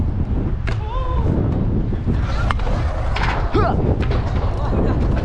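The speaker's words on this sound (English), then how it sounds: "Oh, it's too windy." Blizzard wind roars constantly and loudly into the microphone outdoors while people ride scooters in the snow, with scattered knocks and scrapes from the scooters.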